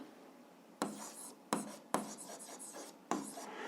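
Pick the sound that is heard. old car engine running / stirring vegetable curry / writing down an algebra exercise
writing down an algebra exercise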